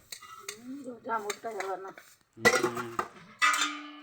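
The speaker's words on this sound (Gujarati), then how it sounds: "કામ વાસણ કરવા માંડી ગયા છે" Dishes, pots and utensils being washed, with intermittent metallic clinks and clatters, a few sharp close knocks and scraping, separated by brief pauses, with a voice speaking in between.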